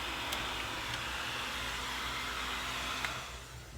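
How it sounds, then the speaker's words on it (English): Blow dryer heating a sticker on a metal Husky tool box, a loud steady whooshing roar of blown air held for several seconds, easing slightly at the end. "my wife's blow dryer should do the trick. So we're gonna try and heat this up."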